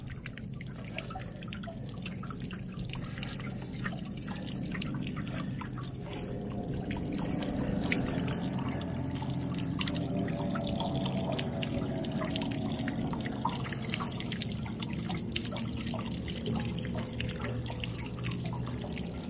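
Water from a spout rinsing out an RV water heater tank, a continuous splashing, gurgling flow with drips and trickles, steady and moderately close, with no voices.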